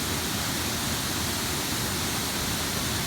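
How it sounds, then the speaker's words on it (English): Constant roar of a waterfall at the end of a wet, muddy forest walk near Auckland, steady broadband rushing water heard fairly close with no voices. "There is the waterfall at the end of it."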